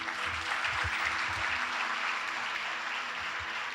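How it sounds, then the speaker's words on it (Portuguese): A church congregation at a youth service gives continuous, moderately loud applause, a steady wash of many hands clapping with a low hum underneath. "Você pode aplaudir o nome desse Jesus porque ele é bom?"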